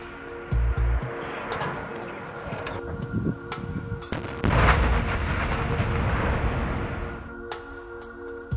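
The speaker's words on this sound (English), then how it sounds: "These linear charges serve as a proven system for clearing minefields." Linear mine-clearing charges detonate in a series of heavy, thudding blasts and crackling bursts, with a long rolling rumble in the middle, set over steady background music.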